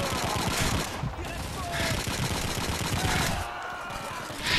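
Sustained automatic gunfire from a machine gun in the World War II shooter Call of Duty 2, with dense rapid bursts running almost the whole time and brief gaps between them.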